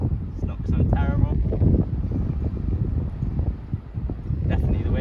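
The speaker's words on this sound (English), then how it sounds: "It's quite windy here" Strong outdoor wind buffets the microphone with a dense, rumbling low roar throughout, while a person speaks briefly under the gusts.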